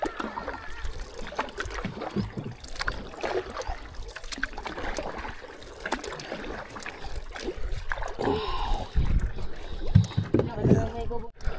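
Paddling and water splashing move along under people talking, with small trickles and drips as a kayak glides across the water.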